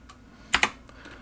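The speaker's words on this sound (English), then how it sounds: "Hit X on the keyboard or tap that." Computer keyboard keys are pressed while drawing construction lines in Fusion CAD software: a couple of sharp, close clicks in quick succession, then fainter taps, with no speech.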